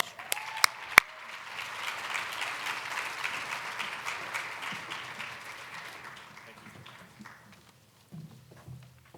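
A keynote audience claps to welcome two speakers onto the stage, a steady wash of applause that swells, holds for several seconds, then thins out and fades to a few scattered claps.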